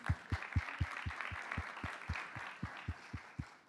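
Applause at a break in a food and data conference rises in a room, a broad clapping wash under a steady series of heavy low thumps spaced about a quarter second apart, moderately distant.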